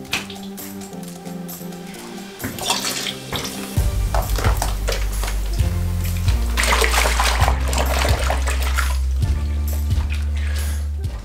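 Soapy hot water in a full tub being stirred by hand to wash hiking clothes, sloshing and splashing continuously beneath loud background music with a steady bass line.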